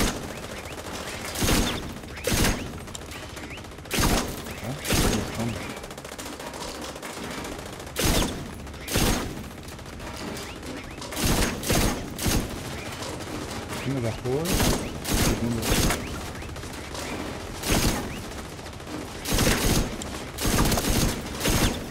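Target shooting in a Coney Island amusement park game mission, popping up walrus targets, brings sharp, loud gunshot bursts at irregular intervals, single cracks and short volleys, with a voice talking between them.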